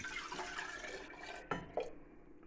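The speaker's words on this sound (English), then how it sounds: "Dripping water everywhere." Water dripping and trickling in a home kitchen while dried fruit compote is made, a continuous splashy wash with two sharper drip-like knocks near the end, fairly close and without talk.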